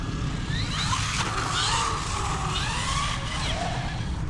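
An MJXRC Jetwood 4WD 3S 1/14-scale RC truggy drives on concrete, its electric motor whining up and down in pitch over steady tire roar, loud and close throughout.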